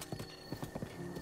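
Epona, a horse in The Legend of Zelda: Breath of the Wild, galloping with a quick, fairly close run of hoofbeats that fills the short stretch amid game ambience.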